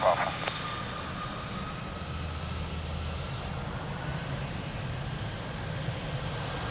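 An Airbus airliner takes off from a runway at Lisbon Airport, heard as a steady, distant broadband engine roar that holds at an even level throughout. A brief click and chirp come near the start.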